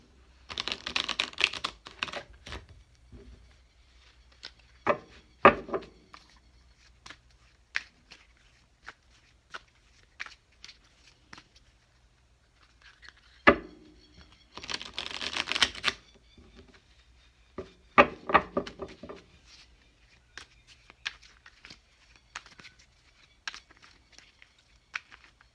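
Bursts of rapid, crisp riffling card shuffles, several in sequence with quieter tapping and handling sounds between them, close and fairly loud.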